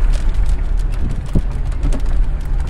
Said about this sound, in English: It's like the closer I get to the park, the more it starts raining.